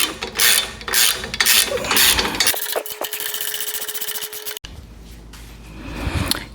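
Ratchet snugging up 13 millimeter nuts while installing a universal ROPS umbrella, giving close, loud clicking and rattling mechanical turns, with a short whirring stretch in the middle and no talk.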